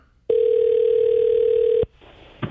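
A single long steady telephone tone on a speakerphone line, loud and unbroken for about a second and a half before cutting off into faint line noise and a brief click.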